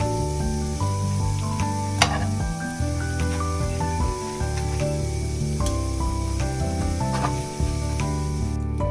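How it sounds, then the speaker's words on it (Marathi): Butter sizzles steadily in a hot pan while pav buns warm for pav bhaji, a continuous close frying hiss with a few faint clicks and no talk. "हलकेचे गरम करायचे तिकडचं बटर मेल्ट होईपर्यंत बॅक साईडला आपण बटर लावूया"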